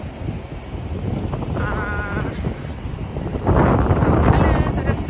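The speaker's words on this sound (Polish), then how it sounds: "Wieje wiatr." Gusting wind in London buffets the microphone with a rough, rushing roar that grows stronger toward the end, while a voice is faintly present.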